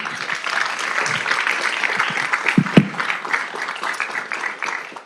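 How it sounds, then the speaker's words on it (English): Applause for graduates at a Montebello city council meeting: a roomful of people clap steadily at moderate volume, with a couple of louder close claps and some voices mixed in. "So let's give all the graduates a round of applause."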